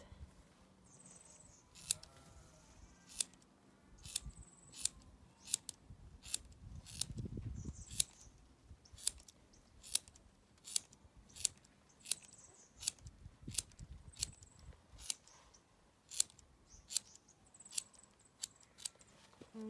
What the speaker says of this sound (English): I'll grab my scissors now and I'll trim the ends.